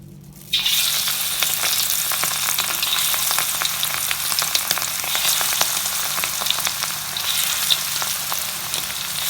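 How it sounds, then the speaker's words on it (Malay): Marinated prawns hit hot oil over a medium flame with a sudden loud sizzle that continues as a busy, crackling fry, close up and steady throughout. "Sekarang saya nak goreng udang yang kita marinate ni"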